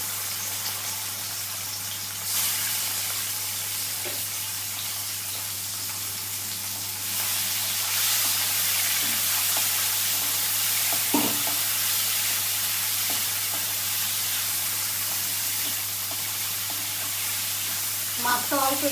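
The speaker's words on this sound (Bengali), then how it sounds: "কড়াতে সর্ষের তেল দিয়ে দিয়েছি, তেল গরম হয়ে গেছে। এবার এর মধ্যে মাছটা দিয়ে দেবো।" Prawns dropped into hot mustard oil in a wok, a close, steady sizzling hiss that jumps louder as they go in, with a few clinks of utensils and a constant low hum underneath.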